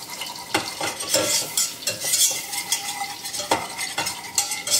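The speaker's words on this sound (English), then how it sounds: "add a little bit of flour until you get just a kind of a paste" Spoon stirring flour into melted butter in a pan to make a roux, a steady run of scraping and clinking strokes with a faint sizzle underneath, close and with no talking.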